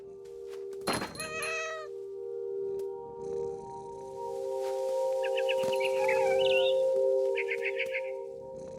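Cat meowing in the video game What Remains of Edith Finch, one loud close meow after a thump, followed by a sustained tone and bird chirps over quiet background.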